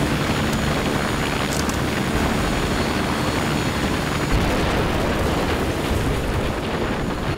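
A helicopter idles at a landing zone in the Conflict: Denied Ops video game, its rotor and engine producing a loud, steady, dense roar that fills the whole stretch without letup.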